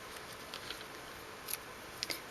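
Scissors make a few faint, sparse snips through dimensional vellum for a handmade card in a quiet room, with no talking.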